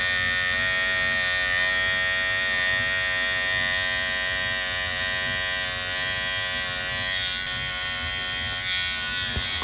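A cheap Amazon electric hair trimmer runs steadily close by, giving a loud, continuous high buzz with a faint shift in tone toward the end and no voices.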